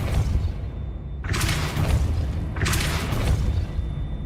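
A Depulso spell being cast in the game Hogwarts Legacy, heard as two bright whooshing bursts about a second apart over a low, rumbling game background, with no voices.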